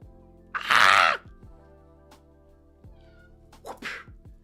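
A domestic cat meows loudly and close by, one long drawn-out meow followed a few seconds later by a shorter second meow, over a quiet steady background hum.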